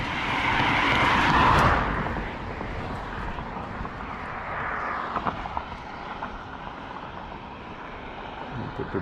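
A car speeds along a residential street on a warm summer night. A loud whoosh builds and peaks, then fades as it passes, and quieter traffic and night ambience follow.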